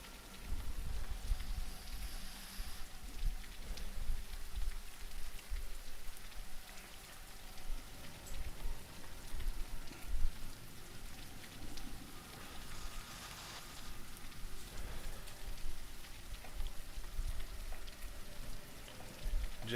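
Steady rain falls on surfaces for about twenty seconds, a dense, even patter that stays moderate and continuous with no voices over it.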